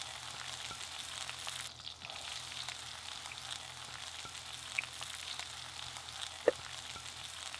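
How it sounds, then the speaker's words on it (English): Chopped onions frying in a pan for an Anglo-Indian ball curry, a steady soft sizzle running throughout with a couple of small pops and ticks, no talking. "And now let the onions get nice and dark golden brown"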